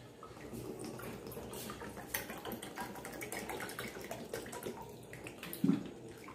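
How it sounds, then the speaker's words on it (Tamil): Four cups of water poured into rava (semolina) batter in a kitchen, heard as continuous splashing and trickling with a louder splash near the end. "4 கப்பு தண்ணி ஊற்றிக்கலாம்."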